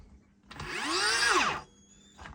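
A nearly 30-year-old battery drill with an electric clutch drives a big screw in one loud, rising-then-falling whine of about a second, followed by a brief faint whir.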